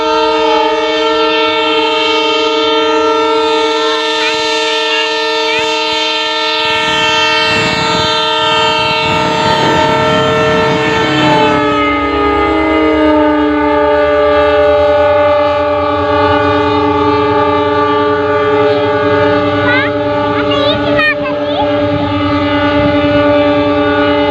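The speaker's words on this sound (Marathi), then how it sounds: "रायमोच्या रेल्वे स्टँडवर आलेले आहे" A train horn sounds long and loud as a train arrives at a railway station, steady for several seconds, then shifts pitch and keeps blaring over a deep rumbling underneath.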